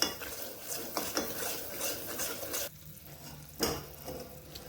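A spoon stirs sugar syrup tinted with red food colour for besan barfi in a pan, giving quiet scraping strokes with faint bubbling and a short pause midway.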